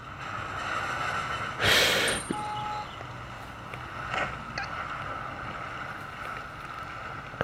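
A tank in World of Tanks Blitz moves through water with a low churning rumble, a loud splashing surge partway through, then quieter sloshing and faint clanks; no talk.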